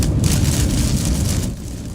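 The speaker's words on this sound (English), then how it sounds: "That's the sound of heavy rain and hail and wind in Arkansas." Heavy rain and hail hammer down in wind during an Arkansas storm, a dense, loud, continuous roar that eases slightly near the end.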